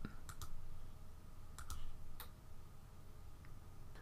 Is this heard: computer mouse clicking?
yes